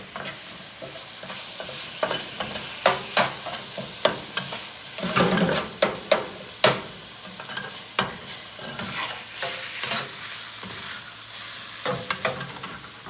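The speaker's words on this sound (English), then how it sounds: "The meat's browning right now." Ground turkey browning in a pan for mapo tofu sizzles steadily while a utensil stirs and scrapes it in irregular clacks, up close with no talking.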